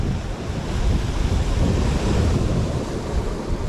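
Strong wind blowing at sea during a fishing trip, a loud, steady roaring gust noise buffeting the microphone with surf-like rumble throughout, no speech.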